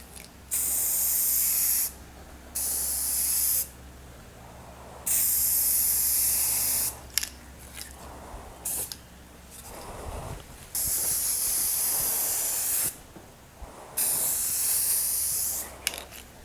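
Spray can hissing in several separate bursts of roughly one to two seconds each, close and loud, as accent stripes are painted over taped-off areas of a 1972 Honda CB450 café racer motorcycle, with quiet pauses between passes.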